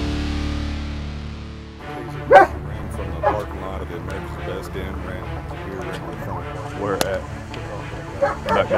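Police dogs bark and yip at a nighttime scene where officers search for a suspect who fled arrest, with sharp barks scattered through steady background noise and voices.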